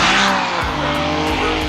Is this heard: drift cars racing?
yes